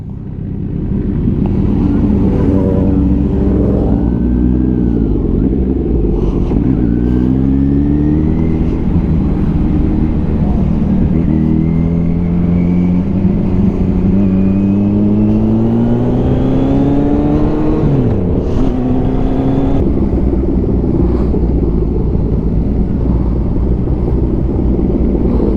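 Motorcycle riding through Kaybiang Tunnel, a loud, steady engine drone with rising and falling revs as gears shift, echoing continuously from start to end, with a few voices briefly audible over it.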